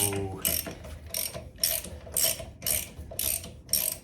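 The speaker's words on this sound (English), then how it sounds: "Been socket wrenching them off." A socket wrench ratchets lug nuts off the wheel of a jacked-up 1984 Chevrolet Suburban. It makes loud, close clicking bursts in an even back-and-forth rhythm, about eight strokes, with no talking.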